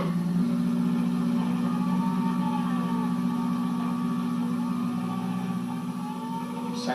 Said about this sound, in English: Satisfied with the running of the twin turbocharged Porsche engines